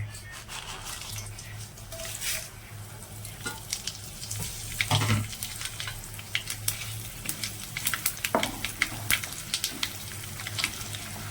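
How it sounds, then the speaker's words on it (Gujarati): Spices dropped into hot oil for a Gujarati green tuver thotha curry sizzle steadily, with crackling spatters and occasional stirring scrapes throughout. "જો દોસ્તો તેલ આપણું ગરમ થઈ ગયું છે હવે આપણે આ બધા મસાલા એમાં એડ કરી દેવાના"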